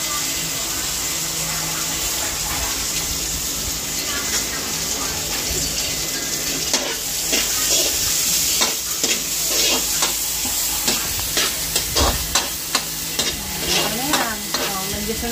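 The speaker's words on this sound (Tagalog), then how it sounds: "Medyo sunog na ang ating bawang at sibuyas" Garlic and onion sizzle steadily as they are stir-fried in a pan for a sweet and sour dish. The hiss is constant and close, and utensils start scraping and clattering in the pan partway through.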